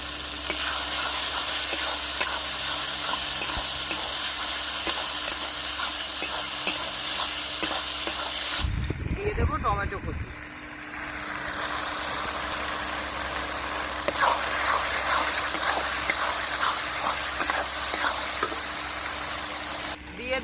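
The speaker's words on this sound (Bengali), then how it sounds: "পেঁয়াজ আর রসুন কিছুটা মানে আমি ভেজে নিয়েছি এখন দিয়ে দেবো আদা বাটা দিয়ে দিচ্ছি আদা বাটা পরিমাণ মতো" Ginger paste goes into oil with already fried onion and garlic, giving a loud continuous sizzle and stirring scrapes; the frying briefly dips midway as the paste is added, then surges back strongly, close up and without speech.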